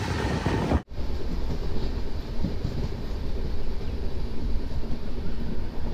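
A Charminar Express train runs steadily on the Hyderabad to Chennai line, its continuous rumble and rail noise filling the clip, broken by one brief dropout near the start.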